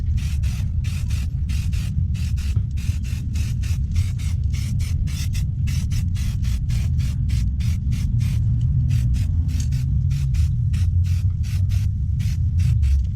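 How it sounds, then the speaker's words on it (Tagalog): Aerosol spray paint applied in light coats to car mag wheels, a long series of short hissing bursts in a fast steady rhythm, close and loud over a low hum, with no talking. "Light spray lang guys."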